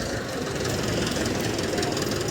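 A New Holland 744 tractor engine runs at the Malout tractor market, a dense continuous diesel rumble with a steady knocking texture, close and unbroken.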